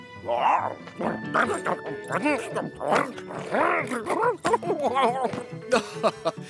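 Cartoon dog Odie barks repeatedly in a loud, close series of yips and howling woofs, mixed with French cartoon dialogue and music.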